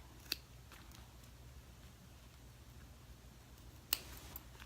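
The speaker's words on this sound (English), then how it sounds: "easier with the smaller scissors on this part" Two crisp snips of small scissors cutting stitches, one near the start and one toward the end, with a faint third click after it, close up against quiet room tone, no talking.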